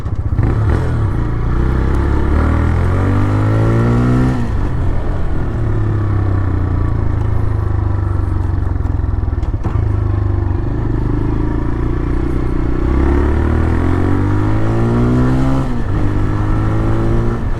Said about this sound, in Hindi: भाई जो इसका साउंड आता है ना खींचने के बाद, वो मुझे बहुत प्यारा लगता है।